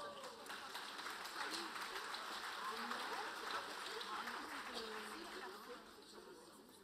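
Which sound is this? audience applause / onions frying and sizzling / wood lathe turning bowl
audience applause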